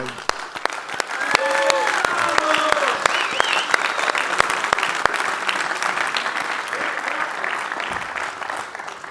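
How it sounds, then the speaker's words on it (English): Sustained audience applause at a basketball league awards ceremony, dense clapping throughout with loud close claps over a crowd, and a voice talking briefly underneath. "it's time for me to drop these so I can applaud Marcelinho"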